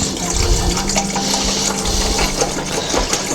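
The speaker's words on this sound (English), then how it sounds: "And now we're gonna fill the side tank with water." Water pours steadily into the side tank of a GE Opal nugget ice maker, a continuous loud splashing gush that runs unbroken with no talk over it.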